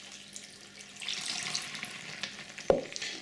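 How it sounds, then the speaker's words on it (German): Water poured over salted pumpkin seeds in a bowl, a soft rushing pour starting after a quiet moment, with a sharp clink partway through. "Und wir füllen das Ganze jetzt mit Wasser"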